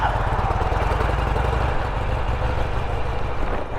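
A 2008 Harley-Davidson Sportster 883 motorcycle with stock exhaust idles steadily up close, a low rumbling throb that holds even throughout.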